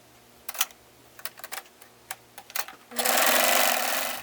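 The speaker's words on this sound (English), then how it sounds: "I want to sew across the top." A sewing machine stitches across the top of fabric, first in short separate bursts of clicking, then in a loud continuous whirring run to the end.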